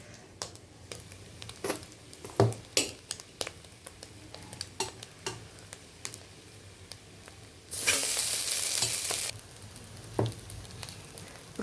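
Egg and rice stir-fry in a pan for egg fried rice: crisp spatula scrapes and taps over a steady low sizzle, swelling to a loud hiss for a moment before settling back into clattering stirs.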